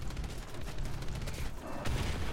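Rapid bursts of aircraft cannon fire from a La-200 jet in the video game War Thunder, loud rattling volleys over a constant engine roar, with a heavier thump near the end.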